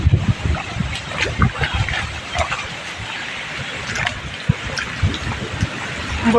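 Swollen river floodwater rushing past farm fields after heavy rain, a steady broadband roar with turbulent surging and gusts of wind, loud and continuous without speech.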